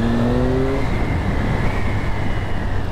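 A steady, loud engine drone from a motorcycle with its stock exhaust rolling through urban traffic, heard from the rider's position under a full-face helmet, with continuous wind and road rumble and no talking.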